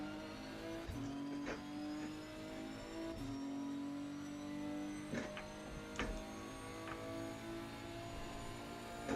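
Race car engine in second gear in Assetto Corsa Competizione, a steady high-pitched drone with slight pitch sweeps and occasional sharp clicks, close and continuous throughout with no talking.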